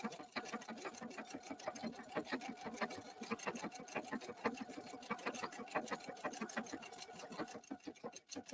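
An Epic2 embroidery sewing machine stitches a house design with a fast, even mechanical needle rhythm that runs steadily throughout, close and moderately quiet.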